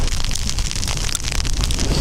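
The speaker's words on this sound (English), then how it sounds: "The weather has turned into this really harsh icy rain." Harsh icy rain and strong wind at a campsite, a dense, continuous broadband roar of driving precipitation and gusts buffeting close against the microphone for the whole stretch, with no voices.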